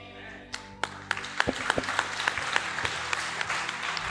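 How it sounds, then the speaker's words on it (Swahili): Applause in a church service begins with a few scattered claps that quickly build into steady, moderately distant clapping from the congregation, with faint murmuring underneath. "Hayo ni makofi"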